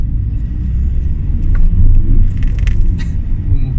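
A remapped Audi A4 accelerates, heard from inside the cabin as a steady, heavy low engine rumble that swells slightly midway, with no talking.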